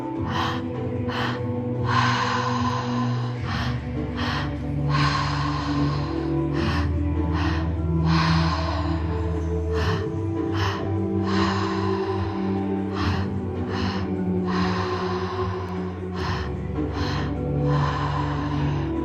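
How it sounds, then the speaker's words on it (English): A person breathes deeply and rhythmically in a guided double inhale breathing exercise, with repeated audible gasping intakes and exhales, close up, over a steady musical drone and with no talk. "So slowly start shifting to a double inhale."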